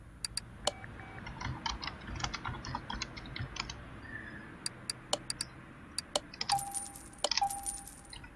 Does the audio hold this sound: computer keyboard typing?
yes